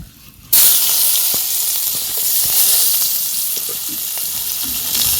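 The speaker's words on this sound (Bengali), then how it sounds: "এখন এই তেলে পেঁয়াজটা ছেড়ে দেব।" Onion goes into hot oil in a village kitchen and bursts into a loud, sudden sizzle that settles into steady crackling frying with faint stirring taps; no talking.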